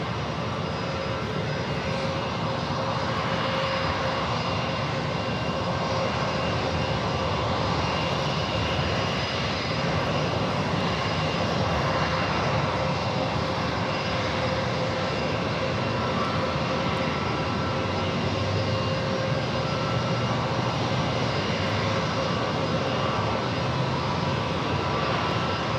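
An airliner takes off at San Diego airport, a continuous, fairly distant engine roar that stays broad and even with no talk over it.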